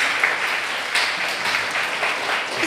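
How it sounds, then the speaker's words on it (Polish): A wedding gala audience applauds its hosts, producing a dense, even wash of clapping that holds steady throughout. "brawa dla nich."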